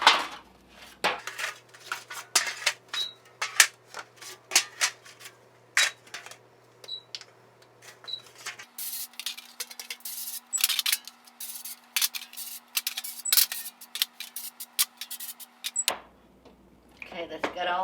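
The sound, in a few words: spraying metal baking pans with cooking spray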